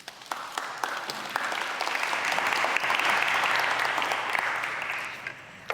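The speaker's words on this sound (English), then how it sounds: "Let's clap for her as she comes." Congregation applause for a woman coming up to introduce the morning speaker at a church event, starting with scattered claps, swelling to a full round in the middle, then thinning out.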